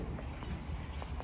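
A horse's hooves clop softly a few times as it shifts its weight while being handled for hoof care by a farrier, muffled and close under low background noise.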